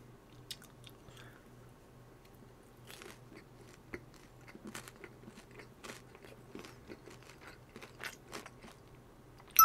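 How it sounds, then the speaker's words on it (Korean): Crunchy Korean chicken gangjeong, mild flavor, dusted with snow cheese, being bitten and chewed in a series of close, crisp crunches over a quiet background hum. "눈꽃치즈 좀 많이 뿌려지는 곳으로 한번 먹어볼게요"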